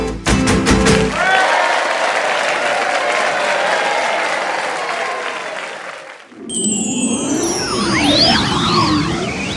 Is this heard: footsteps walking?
no